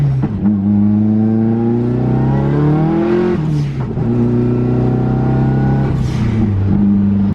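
Turbocharged car engine revving hard and loud, pitch climbing and dropping over two long pulls, each release ending in a sharp airy blow-off valve whoosh, no talk.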